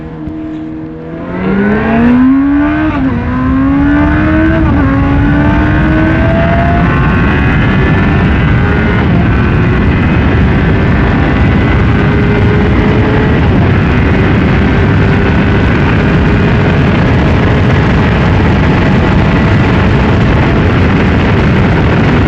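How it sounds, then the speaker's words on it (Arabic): A 2010 Baby King motorcycle engine revs up through a few quick pitch climbs, then holds a loud, steady roar near its speed limit, close by, for a long stretch. "الموتور عمل يعني جنب الليمت بتاعه في السرعه"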